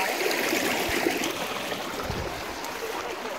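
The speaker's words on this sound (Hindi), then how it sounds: "अच्छा, ये वाटरफॉल है" A small waterfall at Usgaon pours in a steady, close hiss of rushing water with a few low thumps, no other sounds standing out.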